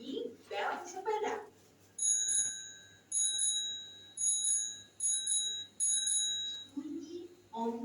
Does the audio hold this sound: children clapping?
no